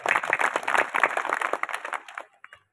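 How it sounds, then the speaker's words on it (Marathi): Audience clapping at a Marathi kirtan led by Amrut Maharaj Joshi: a dense, steady burst of many hands for about two seconds, fairly close, then quickly dying away to a few scattered claps. "तुम्ही सगळ्यांनी टाळ्या द्यायच्या, यांच्या विना पर्याय नाही."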